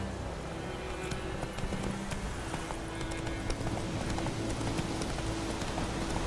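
Roach the horse galloping in The Witcher 3, a fast, even run of hoofbeats held under steady game ambience for several seconds, with no one talking.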